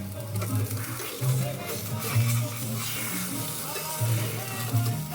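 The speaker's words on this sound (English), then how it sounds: "Right now we're searing. I do like to sear it on the sides a little bit too." Salmon sears in a hot cast iron pan, giving a steady soft sizzle and crackle throughout, fairly quiet, with a low hum and faint talk beneath.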